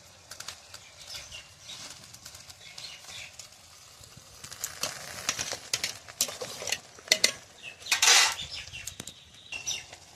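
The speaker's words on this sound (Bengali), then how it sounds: "ভাজি।" Fish head, potato, beans and shrimp fry in a pan while a utensil stirs them, giving scraping clinks and bursts of sizzling that grow louder in the second half.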